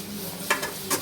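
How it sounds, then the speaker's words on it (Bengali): Meat frying in a pot for biryani, a low sizzle with two or three quick stirring scrapes against the pot, close and brief. "আর কিছুক্ষণ ভেজে দেবো।"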